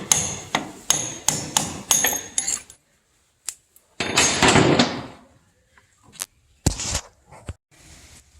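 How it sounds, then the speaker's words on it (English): Hammer strikes on a punch drive a pin out of the gears of a split John Deere 4640 tractor: a quick run of about six sharp metallic blows, then a few scattered knocks and clinks nearby. "punch that pin out and take these gears out"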